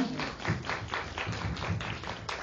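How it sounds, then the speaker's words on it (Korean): A modest round of applause from an audience at a teacher training session welcomes a speaker, quiet, steady clapping with a few sharper claps, no voices over it. "큰 박수로 환영해 주시면 감사하겠습니다"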